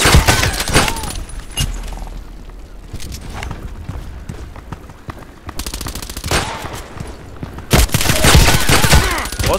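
Rapid bursts of automatic gunfire from a KAC PDW rifle fitted with a Mepro 21 sight in the shooter game Contract Wars. Loud volleys repeat throughout, with brief pauses and sharp impacts between them.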